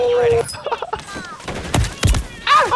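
Video-game gunfire crackles in rapid bursts and loud single shots across a busy firefight, mixed with game sound effects and voices talking over the action.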